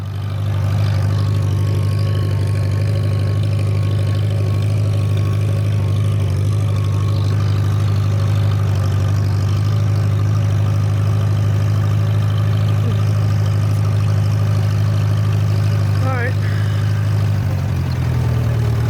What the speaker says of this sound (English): so you want to give it a little more gas and accelerate.